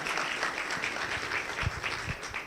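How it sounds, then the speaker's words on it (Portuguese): Applause from a community meeting audience, a steady patter of many hands clapping at moderate distance, even and sustained throughout with a few louder claps standing out. "eu queria pedir uma salva de palmas para essa equipe que está aqui hoje para nós"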